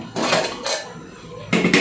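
A lid placed on a home cooking pot, producing a few close metallic clanks and rattles in two short bursts separated by a pause, with no talking.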